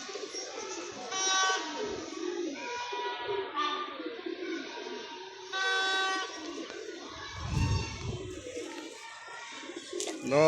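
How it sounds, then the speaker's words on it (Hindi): Pigeons coo repeatedly at an outdoor pigeon loft around dusk, soft rounded calls recurring in phrases, with a brief low rumble of wind or handling noise partway through. "लो जी दोस्तों, ये हमारे कबूतर हैं"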